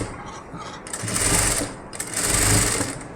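A sewing machine stitches a puff sleeve blouse in two loud, steady whirring runs separated by a brief pause, close up and with no voice over it.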